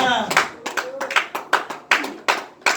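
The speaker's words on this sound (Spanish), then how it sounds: "Dale palmas al Rey de Reyes." A church congregation claps hands together in a steady rhythm, about a dozen loud, close, sharp claps spaced evenly across a few seconds, with no talk.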